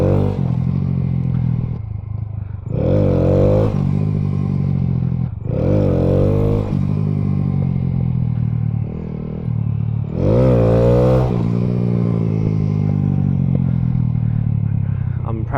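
Honda Grom motorcycle with a 38-tooth rear sprocket, its small engine revving in repeated rising bursts during wheelie practice, loud and close with idle between the pulls.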